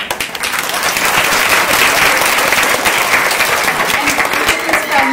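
Students applaud at a second grade school assembly and awards ceremony, a loud, close burst of steady crowd clapping heard on its own.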